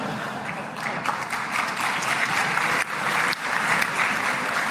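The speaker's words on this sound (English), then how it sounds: "Every nation, their leader, clapping and laughing at Obama's name mentioned at the Knesset in Israel" A large audience in the Knesset in Israel applauds with dense, sustained clapping that swells and dips slightly, steady and fairly distant throughout.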